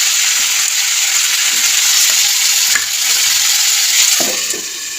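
Cauliflower fries and is stirred in a pan, giving a loud, steady close sizzle with occasional scraping stir strokes and no talk.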